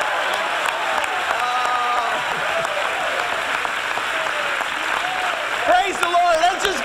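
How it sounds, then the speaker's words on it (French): A church congregation applauds in a sustained wash of clapping, with a voice speaking over it and a brief swell of louder cheering near the end. "Donnez-lui une main d'applaudissement."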